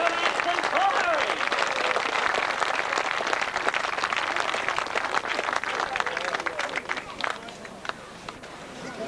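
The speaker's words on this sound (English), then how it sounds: "Let's have a big round of applause there for our 3 winners of the 500 meeting" Sustained applause from a crowd at a 1998 grasstrack racing meeting in Wimborne, dense steady clapping that slowly thins toward the end, with some voices mixed in.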